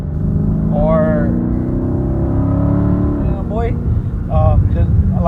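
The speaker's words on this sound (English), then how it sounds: "there's always a squeaking to the exhaust when you cut the mids" Dodge Charger Scat Pack exhaust droning loud and close, with a steady raspy low rumble that swells near the end, while someone talks over it.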